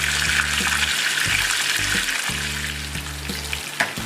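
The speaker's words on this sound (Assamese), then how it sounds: "মাছখিনি ইতিমধ্যে ভাজা হৈ গৈছে।" Fish sizzles steadily in hot oil for an Assamese fish curry, a dense crackling fry broken by a few low scraping stirs, close and fairly loud with no voices.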